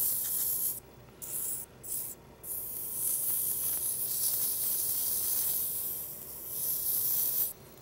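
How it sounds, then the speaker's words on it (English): A small piece of sandpaper is held against a turned wooden spindle on a lathe, making a continuous bright, hissing rasp that briefly drops out a few times before resuming steadily. "for the spindle, since it's a small diameter, just a small piece of sandpaper held against the wood"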